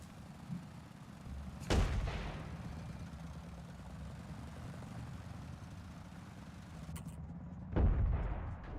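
Gunfire from an enemy sniper in the video game Steel Aces, shooting through a building: two sharp, loud shots several seconds apart, each with a short rumbling tail, over a steady low engine drone.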